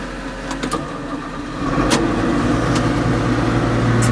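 A Fendt 515c tractor engine runs steadily, rising slightly in level partway through, with a few faint clicks on top and no talk.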